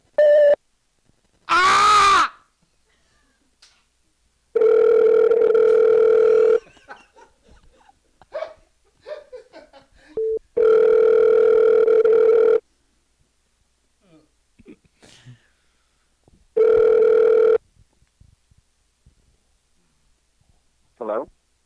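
A Google Voice call system plays steady telephone tones, several sustained beeps and rings, loud and close, with a brief burst and faint speech-like sounds between them.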